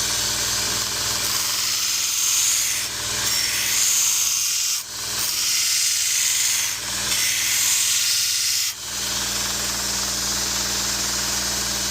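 A Kamikoto single-bevel knife being reground on a sharpening stone, with a final convex pass: a continuous, close abrasive grinding hiss with only a few brief dips where the blade lifts.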